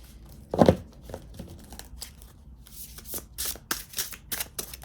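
Tarot cards being shuffled and pulled: a sharp riffle burst at the start, followed by softer card slides and several crisp, snapping shuffles that come in quick bursts toward the end.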